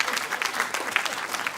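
A crowd claps in a dense, steady burst of applause at a Hindi comic poetry gathering, fairly close and lively, with some voices mixed in.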